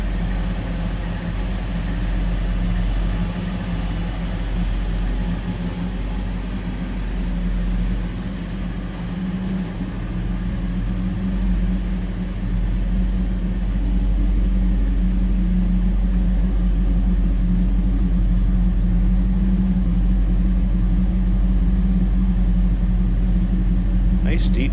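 A 1985 Chevrolet Camaro Berlinetta T-Top engine settling down to idle, a steady low rumbling drone with a deep throaty exhaust note, close and continuous, while someone talks over it.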